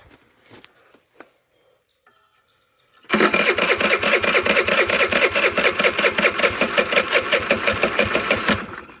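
A small dirt scooter engine runs with the choke on, chattering loud and fast with an even pulsing beat after a few faint knocks and a quiet pause.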